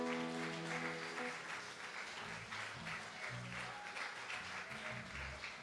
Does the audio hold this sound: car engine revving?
no